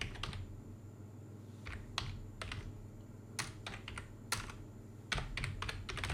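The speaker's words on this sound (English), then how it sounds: "If I can type." Typing on a computer keyboard, close and clear, with irregular clusters of sharp key clicks separated by short pauses over a faint steady hum, no voices.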